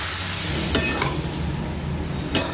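Mustard paste sizzles loudly in a pan after a splash of water, with a steady frying hiss and a couple of sharp scraping stirs near the start and end.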